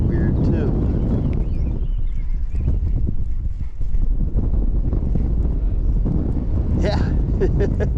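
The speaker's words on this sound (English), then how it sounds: "Can't fish any of this the way I want to because that wind. It's getting stronger too." Strong wind on a fishing trip buffets the microphone with a constant loud, rumbling roar that persists throughout, with faint clattering sounds near the end.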